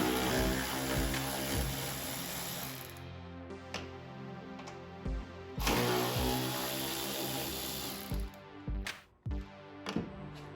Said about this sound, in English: So we'll start off by removing these two 8mm bolts.